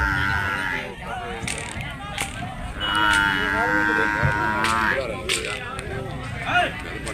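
Buffaloes and cattle at the Markapuram buffalo market in Andhra Pradesh moo repeatedly, with long, drawn-out calls overlapping at close and middle distance over a busy background of crowd murmur and movement.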